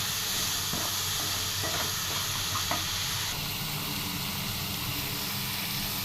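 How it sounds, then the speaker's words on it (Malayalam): Ingredients for drumstick prawn theeyal sauté in a hot pan, giving a loud continuous sizzle and hiss with occasional stirring scrapes throughout. "ഇതൊന്ന് വഴറ്റിയെടുക്കാം."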